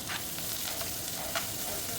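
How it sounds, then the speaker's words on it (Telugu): Small red onions frying in mustard oil in a pan for a gongura prawn curry, a steady close hiss of sizzling with faint stirring scrapes throughout. "ఉల్లిపాయలు కూడా వేగ మగ్గుతాయి."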